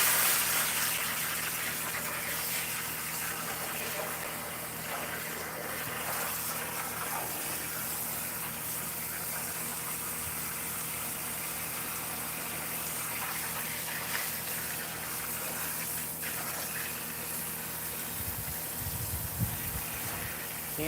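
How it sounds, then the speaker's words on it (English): A steady, loud gush of running water washes ice out of a shrimp basket outdoors in Louisiana, a continuous rushing spray with a few knocks near the end. "So I'm just washing the ice out of that basket."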